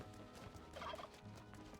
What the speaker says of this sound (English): Yeah, these are turkeys.